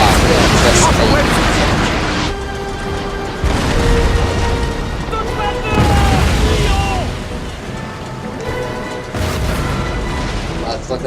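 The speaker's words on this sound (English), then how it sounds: "Are they going to be able to do it broadsides? I know that they're firing." Wooden warships trading cannon broadsides in Napoleon: Total War, a Spanish–French naval battle, with loud, overlapping booms rolling continuously over ongoing gunfire and a commentator talking throughout.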